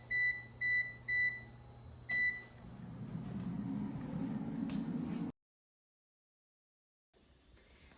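An air fryer beeps as its temperature and time are set for roasting banana peppers: a run of short, evenly spaced electronic beeps, then a longer tone, followed by a few seconds of steady fan hum that cuts off into silence.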